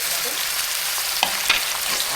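Onion and garlic fry in a pan with a continuous bright sizzle, broken by a couple of sharp utensil clicks near the end.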